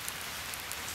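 Rain falls in the woods, a steady, even hiss of drops pattering on surfaces, fairly faint and continuous with no voices.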